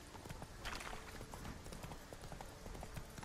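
Horse hooves clop at a fast, steady gait in the video game The Witcher 3: Wild Hunt, a continuous rhythmic patter under dense game ambience.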